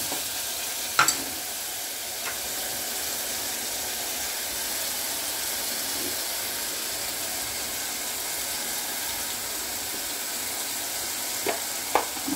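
Tomatoes sizzle in hot oil tempering, a constant hiss of frying with a few sharp utensil clinks and stirring knocks scattered through, no one speaking.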